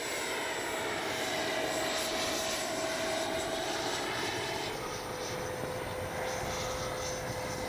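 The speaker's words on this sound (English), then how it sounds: "Great flying jet coming right at us." A Freewing F9F-8 Cougar RC jet passes overhead at an airfield, its ducted-fan engine giving a steady, loud whine that holds throughout with no voices.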